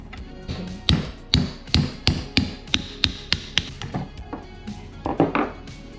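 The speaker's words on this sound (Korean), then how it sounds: "칼을 댄 다음에 망치를 이렇게 하니까 쉽네요" Repeated sharp hammer blows on a knife cutting through a cooked kabocha squash, about a dozen evenly spaced knocks, close and loud, ending in a quicker cluster of taps.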